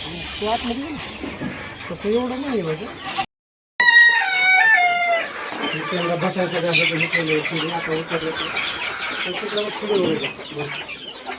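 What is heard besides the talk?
chickens clucking in a poultry coop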